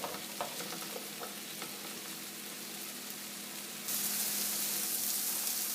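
Mushrooms sautéing in a pan for chicken marsala, with a continuous close sizzle and a few light stirring taps, the hiss growing brighter and louder toward the end, with no voices.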